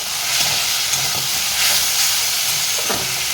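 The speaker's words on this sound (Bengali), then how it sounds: "এবার আমি টমেটোটা দিয়ে দেবো টমেটোটা দিয়ে ভালো করে কষিয়ে নেবো" Tomato frying with onions in a pan for a spicy tilapia curry gives a steady, close hiss and sizzle, with faint stirring scrapes now and then and no talking.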